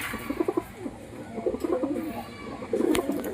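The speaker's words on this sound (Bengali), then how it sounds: "পায়রা দুটো শুধু দেখে যান" Pigeons coo in soft, repeated low bursts close by, with a faint background hum and an occasional sharper click.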